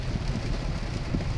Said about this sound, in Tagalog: ay malakas na yung ulan dito dahil sa bagyong umpong na nalasa dito sa Manila